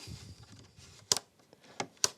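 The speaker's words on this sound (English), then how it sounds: "Oh, what a nice click." Three sharp mechanical clicks from a knob on a 1963 Dansette Bermuda portable record player, close and crisp, spaced about a second apart over a faint low rumble.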